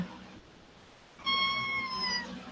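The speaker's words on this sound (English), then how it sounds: "I don't know if you can hear her meowing, but she's meowing." One clear, drawn-out cat meow sounds up close after a moment of near silence, tapering off at the end.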